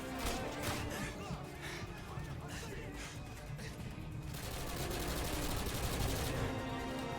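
Gunfire in the Modern Warfare 2 veteran campaign, dense rapid bursts of automatic shots and crackling impacts filling the whole stretch, loud and continuous.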